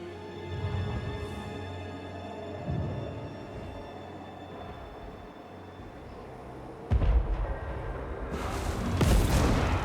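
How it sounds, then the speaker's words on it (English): Deep booms of cannon fire in the video game Total War: Warhammer III rumble repeatedly as cannons fire on defenders, some distant and muffled, others closer and sharper, building into a heavier barrage toward the end. "Cannons fire upon the defenders."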